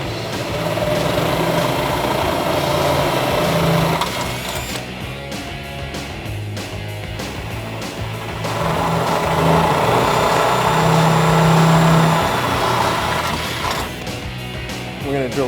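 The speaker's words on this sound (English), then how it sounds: "We're going to drill this one out as well." A drill bores out a fender flare mounting hole on a Jeep Wrangler JK in two loud, close bursts with a ratcheting, geared chatter, separated by a quieter stretch in the middle, no speech.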